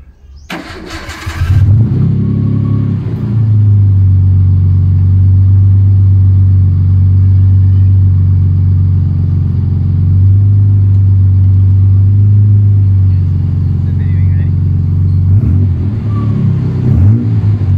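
An A31 Nissan Cefiro's RB24 engine cranks and starts, then settles into a loud, steady low idle rumble with slight rises in revs, close up and without talk.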